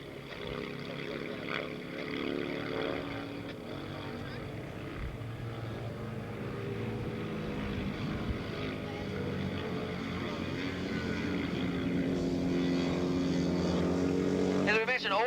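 Norton and Ducati twin-cylinder racing motorcycles circling Willow Springs International Raceway in a 1986 Battle of the Twins and Singles race, a sustained engine roar at moderate distance beneath continuous race commentary.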